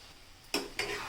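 Pumpkin sabzi mixed with coconut cooks in a pan: a quiet simmering bed, then two brisk scraping stirs close by, with no voices.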